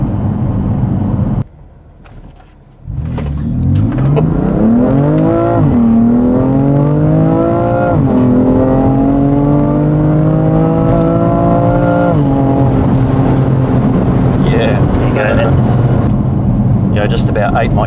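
BMW F81 M3 Touring wagon engine heard from inside the cabin, a loud sustained drone that climbs in pitch through repeated revs and gear changes after a brief quiet start.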